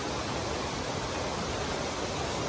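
A creek runs after a rainstorm in Hagador Canyon, where a fat bike is being ridden across it, and the flowing water gives a steady, close, broadband rushing wash with no other sounds above it.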